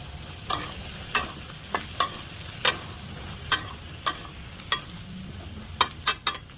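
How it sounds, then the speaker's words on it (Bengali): A spatula scrapes rhythmically through shrimp curry with ridge gourd frying in a pan, about ten sharp stirring strokes over a steady low sizzle, close and fairly loud. "এখন ধুন্দুলগুলো দিয়ে দেবো। ধুন্দুল দেওয়ার পর একটু নাড়াচাড়া করবো।"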